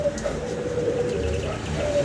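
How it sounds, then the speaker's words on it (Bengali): Pigeons cooing in a loft of fancy breeder pigeons, a steady low, throaty coo repeating close by across the whole stretch, with faint chirps above and no talking. "রানিং ডিম বাচ্চা করা একটা কবুতর।"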